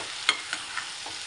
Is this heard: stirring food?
yes